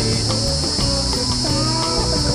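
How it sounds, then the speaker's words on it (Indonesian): Crickets chirp loudly and close in a forest at dusk, a dense, constant high-pitched trill with no pauses and no voices over it. "Di tengah hutan tuh ada suara apa, Bung? Jangkrik, Bos."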